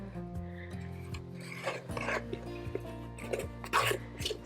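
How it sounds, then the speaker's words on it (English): A spatula or spoon scraping the last of an angel food cake batter from the sides of a mixing bowl, soft rasping strokes repeating close by over quiet background hum. "Make sure you get all the batter in, go through and scrape the sides."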